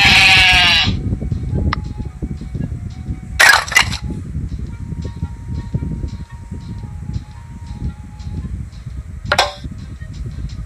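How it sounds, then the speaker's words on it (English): Toy sheep bleats from a baby jigsaw puzzle, a brief high bleat at the start and another near the end, with a shorter squeal midway, over faint background rumble. "Sheep."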